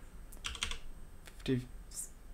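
A few scattered computer keyboard keystrokes during a disk partition resize, faint and irregular, with a short burst of clicks near the start and another single click later, no talking.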